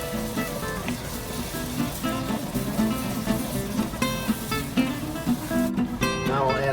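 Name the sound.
beef stock deglazing a hot pan, sizzling and scraping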